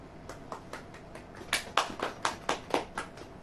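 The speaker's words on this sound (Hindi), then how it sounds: "ताली बजाओ।" A church congregation claps in a quick, even rhythm, about a dozen claps that start faint and grow louder, heard from a little distance with no talking over them.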